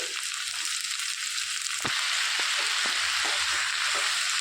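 Thinly sliced ridge gourd pieces go into a pan of frying onions and a loud, steady sizzle rises, broken by a few scraping stirs, close and continuous.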